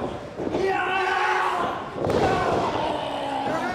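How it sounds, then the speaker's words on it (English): A wrestler's backcracker slam in a pro wrestling match lands as a heavy thud on the mat, followed by a second impact about two seconds later, with crowd noise and commentary throughout. "And Tim Hughes with a backcracker"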